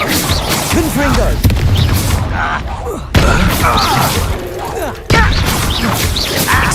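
Confringo explosive spell blasts in Hogwarts Legacy, three loud booming impacts in sequence with crashing debris, crackling effects and shouted combat voices between them.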